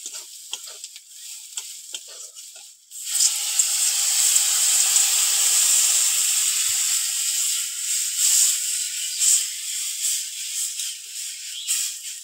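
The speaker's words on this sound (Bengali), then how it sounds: "এবার আমি জল দিয়ে দেবো" Quiet stirring clicks in a pan of taro with chili powder give way to a sudden loud hissing burst as water hits the hot pan, then a sustained bubbling sizzle that gradually eases.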